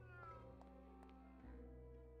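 A cat meows in the adventure game Grim Fandango, one drawn-out, tonal cry sitting over a low, steady musical drone with faint clicks, no talking.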